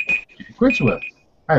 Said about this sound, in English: that's my alarm because I'm baking some bread.